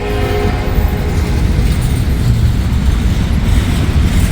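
A Norfolk Southern freight train rolls slowly past, a loud continuous low rumble of wheels and cars with faint rattling and no pauses.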